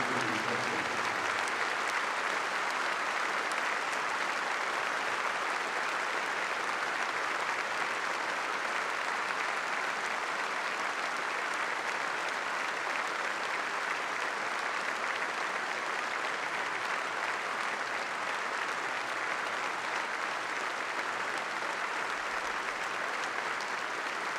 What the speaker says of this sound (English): Please join us now in a period of applause as a mark of respect to George Baldock